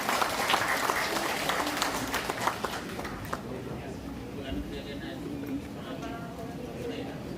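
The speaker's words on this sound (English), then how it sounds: "let us give a round of applause to the Dean of the University of the Philippines Institute of Islamic Studies" An audience applauds the Dean of the University of the Philippines Institute of Islamic Studies at a microcredit launch event, with steady clapping that is loudest early and then thins into scattered claps and murmuring over the following seconds.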